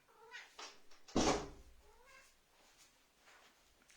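A domestic cat meows loudly and close by in one strong, drawn-out call, with quieter mews and faint room sounds before and after it.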